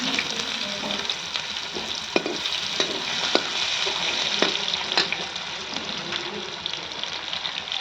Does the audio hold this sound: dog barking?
no